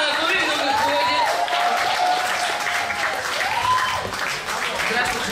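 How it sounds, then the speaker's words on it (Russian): Audience at a camp counselors' concert applauding as a teacher walks out, dense sustained clapping from a crowd, with a voice speaking over it. "под бурные аплодисменты Татьяна Анатольевна выходит"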